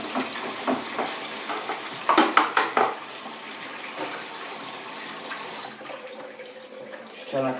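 Tap water running steadily into a home-brew kit fermenting vessel, a continuous hissy splash with a few clinks of a spoon stirring partway through, and a brief change in flow near the end.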